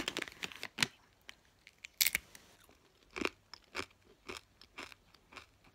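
Crisp, crunchy bites and chewing of dried pear crisps close up, in irregular snapping bursts with short quiet gaps and no talking.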